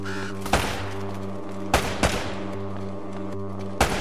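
Gunfire in the video game Uncharted: Drake's Fortune, a handful of sharp isolated shots at irregular intervals cutting through a steady humming game soundscape.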